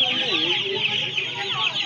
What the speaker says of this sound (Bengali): এখানে দেখুন বাচ্চা মুরগি আছে